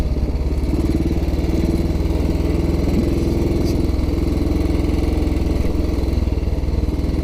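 A 1944 rigid-framed Ariel W/NG-based trials motorcycle engine runs out in open country, a loud steady single-cylinder thump with slight rev variation, no voices.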